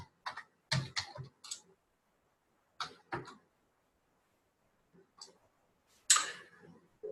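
A computer keyboard clicks in short, sparse clusters of keystrokes separated by silent gaps, close and quiet, as someone enters a command.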